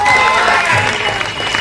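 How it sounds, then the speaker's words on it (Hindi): Audience at a live show in Darbhanga giving a broad, steady wash of clapping and cheering that stays loud throughout, with crowd voices mixed in. "लेकिन आपकी तालियों में थोड़ा शोर और होना चाहिए।"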